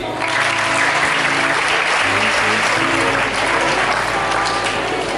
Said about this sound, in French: je vois les gens qui applaudissent